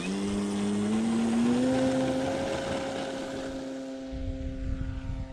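A Hangar 9 Valiant RC airplane with a 10cc engine flies past, its buzzing drone loud and steady, then rising in pitch and slowly fading as it moves away during a landing approach.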